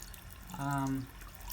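Water runs briefly from a sink tap while oil-paint brushes are washed, a short steady gush that starts and stops, heard quietly indoors.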